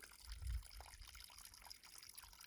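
Creek water constantly pouring and trickling along a backwoods ranch stream, a faint, steady babble with a brief low thump near the start.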